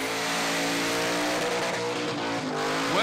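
At the Summernats car festival a street machine performs a burnout, its engine screaming at high revs in a continuous loud roar with rising and falling pitch and tyre squeal throughout.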